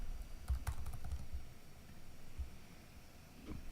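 Keystrokes on a computer keyboard as a template name is typed, a quick irregular run of clicks in the first half, then sparse isolated taps against a quiet background.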